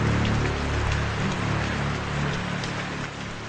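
Rain falling during a Telugu movie scene, a steady, even hiss of drops throughout with a low background hum and no talking.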